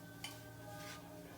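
Stirring flour into sausage and grease in a pan, a soft scraping and stirring noise with a brief utensil clink near the start, heard close over a steady background hum.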